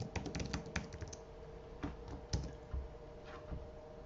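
Rapid clicking keystrokes on a computer keyboard, quiet and close, a fast burst of typing followed by a few scattered taps.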